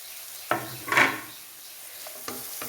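Chicken added to a pan of chicken masala and garam masala, giving a soft sizzle with a few sharp scrapes and knocks of a spoon against the pan, close and without talk.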